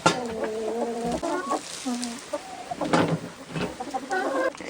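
Hens clucking and squawking inside a farm chicken coop during an ice storm, several birds close by with overlapping bursts of cackling and short calls throughout.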